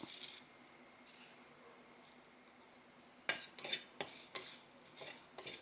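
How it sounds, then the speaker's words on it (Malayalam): Quiet hiss of mustard seeds, urad dal, dried chillies, onion and curry leaves frying in oil in a pan, then a stirring spoon scrapes and clinks against the metal several times. "കടുവും വറ്റൽമുളകും ഉള്ളിയും കറിവേപ്പിലയും എല്ലാം ഇട്ട് നമ്മൾ കടുക് വറുത്തിട്ടുണ്ട്"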